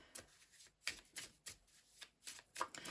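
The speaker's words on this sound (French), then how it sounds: "Je vais tirer une carte ici." A deck of tarot cards shuffled and drawn by hand, soft riffling flicks and taps in quick irregular bursts, close but faint, with no talking.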